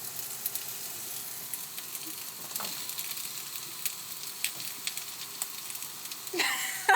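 Zucchini and eggplant fry in oil in a pan inside a camper van, with a steady, soft sizzle throughout and a brief louder clatter right at the end.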